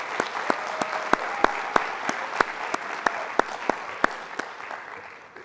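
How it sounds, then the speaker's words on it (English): A small audience at a first-year pledge and oath-taking ceremony gives a steady round of applause, with a few sharp, close claps standing out above the patter for about five seconds. "Can we have one more round of applause for everybody?"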